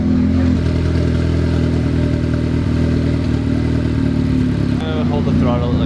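Boosted K20 engine in a Honda Civic idling with a steady low rumble and clattery mechanical tone, loud and close, with a slight shift near the end.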